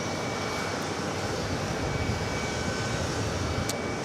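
A Delta Airbus A330neo arriving at JFK from Tel Aviv passes with a low, steady jet engine rumble, moderately faint and unbroken for a few seconds, with nothing else over it.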